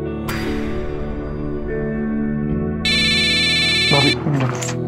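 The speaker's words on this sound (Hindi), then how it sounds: "मेरा फोन।" A mobile phone ringtone plays as a loud electronic tone pattern over background music, with a bright repeating chime section near the end.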